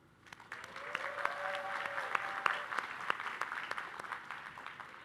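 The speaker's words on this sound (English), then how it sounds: "Please join me in a round of applause." Applause from the audience at a community college graduation ceremony, building quickly from a few claps into a steady, moderately distant ovation with crisp individual claps standing out.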